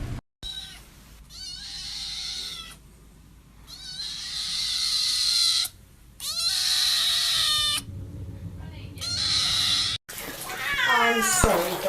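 A cat meows repeatedly in drawn-out, wavering cries with short gaps between them, close and loud, ending in a sharper yowl while a person talks alongside.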